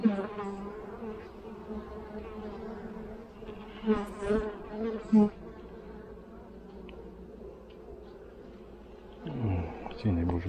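A dense, steady drone of many honeybees buzzes from an open hive as a frame is worked, loud and close throughout, with a person speaking over the hum.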